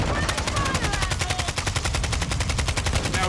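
Rapid automatic gunfire in Call of Duty DMZ on Ashika Island, shooting a large flowered vase, a steady loud burst of evenly spaced shots running throughout.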